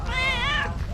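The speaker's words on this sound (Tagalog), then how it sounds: "may pusa po dito makulit" A house cat gives one drawn-out, close meow with a rising then falling pitch. A low background rumble runs underneath.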